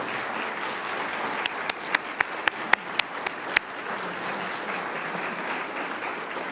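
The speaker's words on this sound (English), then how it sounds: "So if we could give them a big round of applause." Steady applause from a church congregation at a Lutheran annual meeting, honoring staff members, with a run of sharp individual claps standing out partway through; moderately loud and continuous throughout.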